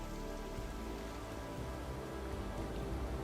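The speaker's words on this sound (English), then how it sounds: "The autumn rains have arrived" Steady autumn rain falls in a forest, a dense, even hiss of drops on leaves and ground with no break or voices.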